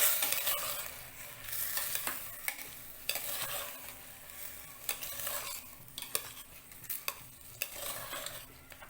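Drained rice being sautéed in ghee in a pressure cooker, a steady soft sizzle under repeated scraping and stirring strokes of a spoon against the metal pot, close and even.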